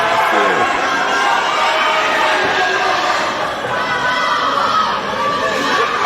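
Dense, loud crowd at an independent wrestling event, with steady chatter, shouts and cheers blending into a continuous roar for the whole stretch.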